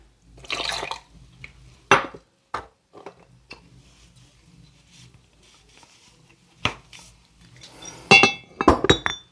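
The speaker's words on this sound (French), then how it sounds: "On va venir prendre notre liqueur hypnotique." Hpnotiq liqueur measured and poured for a cocktail, with sharp clinks of glass and metal, a short trickle of liquid and a burst of rapid clinking near the end, close and isolated.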